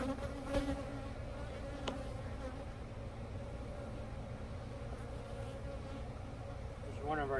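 Honey bees buzz in a steady, dense drone while a beekeeper shakes them down from brood frames at a pollen-collecting bee yard, the hum continuous and close with a few brief knocks.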